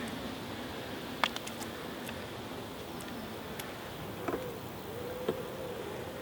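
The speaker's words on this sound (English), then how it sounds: "get these bees off here" Honeybees hum steadily around a beehive as a frame is shaken, a low, continuous drone with a few faint ticks and taps over it and no talking.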